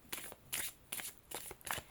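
Tarot cards riffled and shuffled by hand in five quick bursts with short pauses between, close and fairly quiet.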